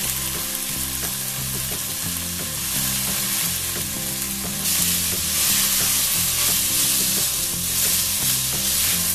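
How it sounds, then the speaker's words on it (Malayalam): Small jeerakasala rice and onions sautéing together in ghee for ghee rice, a loud continuous sizzle close up with rhythmic scraping stirs and clinks against the pan, no talking. "ഈ അരിയും ഈ സവോള എല്ലാം കൂടെ കുറച്ച് നേരം നന്നായിട്ടൊന്ന് വഴറ്റിയെടുക്കണം"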